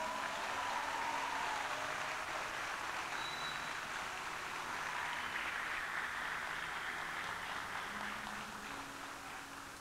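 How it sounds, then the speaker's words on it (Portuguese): Church congregation applauding during a service, a soft, continuous wash of many hands clapping, heard from a distance and sustained for about ten seconds with a slight fade at the end. "Você pode dar uma salva de palmas a Jesus?"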